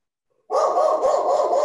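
A dog barks suddenly after near silence, a loud, close burst of rapid barking that continues steadily to the end with no talking.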